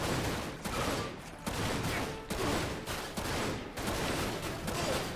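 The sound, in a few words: gunfire from behind in the video game Dirge of Cerberus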